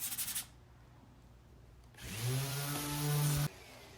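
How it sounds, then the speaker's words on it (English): Sandpaper scrapes over finish buildup on a cedar chest, one short rub, then quiet, then a longer steady rasping pass that ends abruptly; close and fairly loud. "rub the sandpaper across the buildup, and that removes it nice and quick and easy"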